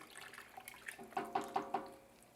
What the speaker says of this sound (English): Pour the rest of my stock in here.